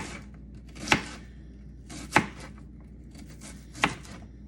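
A knife slices an onion into strips on a cutting board, three distinct crisp cuts spaced about a second apart, close and clear with no talking.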